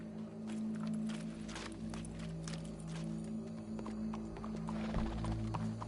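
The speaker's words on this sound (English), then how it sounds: "Go brush that horse, officer." Horse hooves clip-clop in a PS4 video game, with a whinny, moderately close over a steady low game soundtrack hum, and no one speaking.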